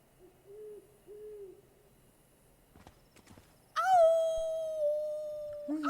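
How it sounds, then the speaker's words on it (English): A wolf howls in the video game Life is Strange 2, one long, loud, falling cry that rises clearly after two soft owl-like hoots and some faint rustling. "I hear a wolf."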